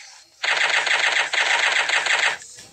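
Rapid automatic gunfire from a video game weapon, a dense, loud burst of shots lasting about two seconds with a brief break midway, close and without talk.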